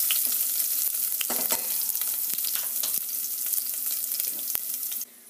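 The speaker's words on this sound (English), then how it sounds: "you're gonna wanna saute it until it's a tannish color, but it's really important that you don't wanna burn your garlic" Garlic sizzling steadily in a hot pan with occasional stirring clicks, a continuous bright frying hiss that drops off abruptly near the end.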